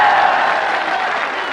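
A large crowd at an outdoor political rally in Mianwali claps loudly and continuously, a dense, steady wash of applause with a faint voice beneath.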